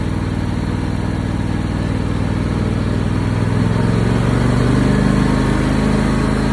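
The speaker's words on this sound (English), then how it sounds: "use the choke here to try to do this. So it started with the choke." A John Deere X340 riding mower, just started with the choke after a stalling problem, runs at a steady, loud idle with a low, throbbing engine rumble and no talk over it.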